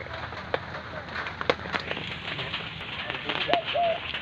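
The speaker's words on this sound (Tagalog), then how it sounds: "yan naman yung aming kalapati na si Homer." Soft pigeon coos sound intermittently among light clicks and rustling, with a few brief bird calls over a faint background hum.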